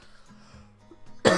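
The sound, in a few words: cough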